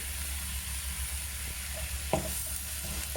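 Chicken gizzards sautéing with mushrooms and spring onion in a pan, a steady soft sizzle broken by a few sharp scrapes and clinks of a utensil as they are stirred.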